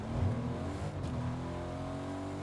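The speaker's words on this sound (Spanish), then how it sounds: "Te escucho un coche por ahí." A car in the battle royale game Fortnite drives somewhere close, its engine a low, steady hum that swells slightly at the start, then settles into a faint, even drone.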